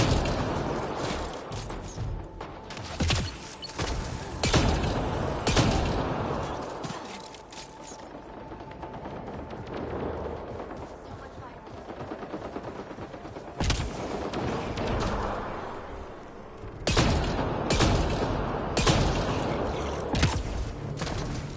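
Gunfire and turret fire crack and boom throughout a firefight in Mass Effect: Andromeda. Loud, sharp shots come in irregular bursts over a constant bed of heavy background noise.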